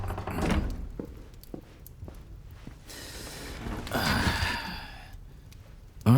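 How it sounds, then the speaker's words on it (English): A door in an indoor room thuds shut with a couple of soft knocks and creaks, then a heavier slam near the end, heard close over a low rumbling background. "close the door behind you."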